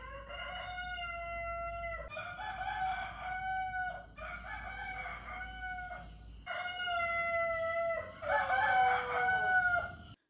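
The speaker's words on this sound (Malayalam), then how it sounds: "അയൽവാസിയുടെ കോഴികൾ മത്സരിച്ച് കൂവുകയാണ്." Several neighbouring roosters crow in turn, long rising-and-falling cock-a-doodle-doo calls overlapping one another, loud and fairly close, with no talk.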